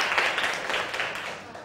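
A classroom of students applauds classmates' test scores with steady, dense group clapping, while a voice talks over it.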